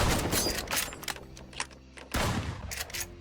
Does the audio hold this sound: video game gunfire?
yes